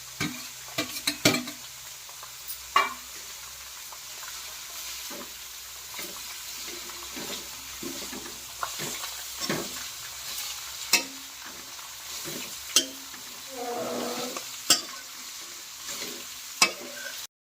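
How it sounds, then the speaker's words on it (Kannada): Onions and ginger sizzle in a hot pan while a spoon stirs them, with scattered scrapes and clinks over a steady, fairly quiet frying hiss and no talking. "ಈಗ ಈರುಳ್ಳಿ ಚೆನ್ನಾಗಿ ಫ್ರೈ ಆಗಿದೆ"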